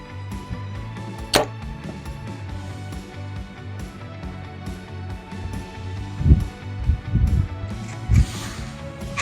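A single arrow loosed from a Darton Consequence compound bow at 40 yards outdoors on a calm day, a sharp crack of release followed by low rumbling and a few dull thuds, with no talking.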